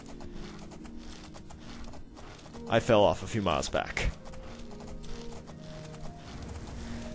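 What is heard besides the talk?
horse hooves clip-clopping in video game Oblivion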